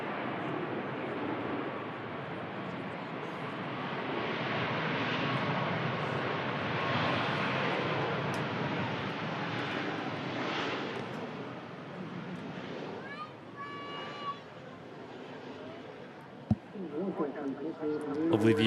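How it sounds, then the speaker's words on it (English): A Ryanair Boeing 737 Max arrives at an airport, its broad engine rumble rising and fading in the distance while people talk over it. "It's another Ryanair Max as well"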